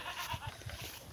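Goats on a small farm where madre de cacao forage is grown, bleating in a few short repeated calls, close and moderately loud over a steady outdoor background.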